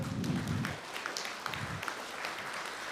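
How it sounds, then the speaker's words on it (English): An audience at a youth talk event in Rotorua gives a short burst of clapping, fairly faint and brief, fading quickly into a quieter room. "big clap to all of those who have been working behind the scenes"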